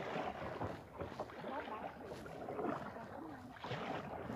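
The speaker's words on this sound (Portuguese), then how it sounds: "Mas tá remando contra o vento," Oars work a rowboat across a lagoon against the wind, faint rhythmic splashes and strokes mixed with gusty wind buffeting the microphone, quiet and close.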